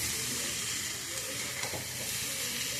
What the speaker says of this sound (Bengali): চাউমিনটা দিয়ে এবারে ভালো করে নাড়াচাড়া করব